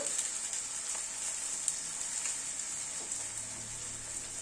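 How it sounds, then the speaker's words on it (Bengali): Onions frying in medium-hot oil for potato curry, a continuous bright hiss of sizzling with scattered pops, close and steady, and a low hum appearing near the end. "তেলের টেম্পারেচারটাকে বাড়িয়ে কমিয়ে পেঁয়াজটাকে ভাজতে হবে।"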